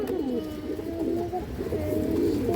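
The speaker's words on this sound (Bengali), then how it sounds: "একটা হারিকেন মাদি কবুতর আছে মাশাআল্লাহ" A female Hurricane pigeon coos steadily with low, rolling calls that run continuously, close and fairly loud, with no talk over them.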